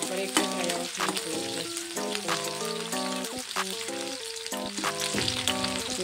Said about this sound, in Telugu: అల్లం, ఈ రెండు కొంచెం ఫ్రై అవ్వాలి.